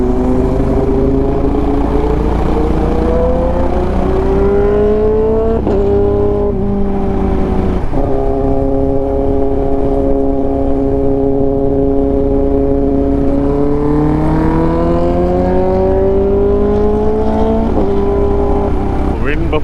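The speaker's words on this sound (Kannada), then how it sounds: "ಬಫೆಟಿಂಗ್ ನಾಯ್ಸ್ ಟೆಸ್ಟ್ ಮಾಡೋಕ್ಕೆ ಸ್ಪೀಡ್ ಹೊಡಿತಾ ಇದ್ದೀನಿ" A motorcycle ridden at high speed through thick fog near Hosur gives a loud, steady engine drone that shifts pitch as it speeds up and eases off, with a constant rush of wind buffeting over the rider's helmet.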